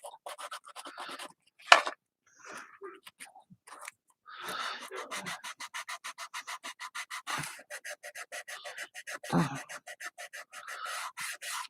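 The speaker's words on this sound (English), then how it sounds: "see if I can sand in that spot a little bit" Sandpaper rubs by hand against a Dollar Tree sled ornament in quick repeated scratchy strokes, close and fairly quiet, with a few breaths and short pauses between bursts.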